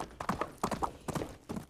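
Horse hooves clip-clop at a brisk walk, a close, clear run of hollow knocks in uneven pairs with no voices over them.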